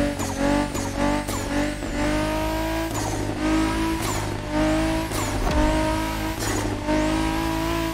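A car engine in the video game The Crew Motorfest revs hard through repeated gear shifts, rising and falling in pitch, with turbo whine and tire squeal. It is loud and continuous.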